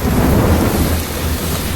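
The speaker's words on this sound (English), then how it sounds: "It's thunder, it's lightning." Loud, deep rumbling thunder rolling continuously, mixed with the hiss of heavy rain, close and enveloping, during a rainy-season storm in the Okavango, Botswana.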